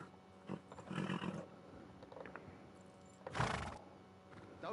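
Horse in the Kingdom Come: Deliverance II video game giving a loud, rough neigh and snort, a few faint hoof and tack noises between the calls, with no talk.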